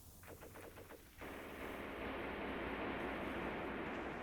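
Artillery or gunfire called in during a Graviteam Tactics war game: a few quick rhythmic bursts at the start, then a steady rumbling roar of sustained fire, moderately loud and heard without talk.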